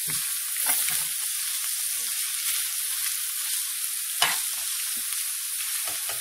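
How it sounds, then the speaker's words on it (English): Carrot for a lumpia filling sizzles in a frying pan as it is stirred. A continuous hiss runs throughout, with a couple of soft utensil scrapes near the start and middle. No voices are heard. "So I'm just going to add that carrot in. Okay. Stir that around."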